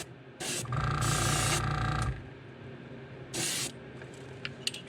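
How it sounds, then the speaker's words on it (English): Aerosol spray paint hisses onto a crankbait fishing lure in two bursts, a long steady one and a shorter one, close up, with mechanical clicks and hum between. "And I'm just spraying it straight on."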